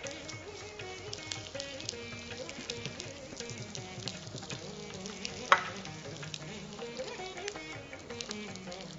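Chana dal and dried chillies frying in hot oil, with a steady close sizzle and occasional stirring scrapes, plus one sharp clink midway.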